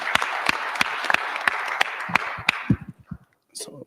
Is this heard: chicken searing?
no